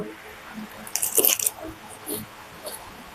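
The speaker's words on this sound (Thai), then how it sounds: "ฟังเสียงเคี้ยวนะคะ" Crispy fried Thai mackerel with chili and ginger is bitten and chewed close up, giving a loud crunchy burst near the start followed by a few softer crunches.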